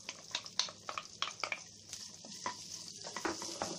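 Onions sautéing in ghee in a pan, a soft sizzle with quick, irregular spatula scrapes and taps close by, fairly quiet and without speech.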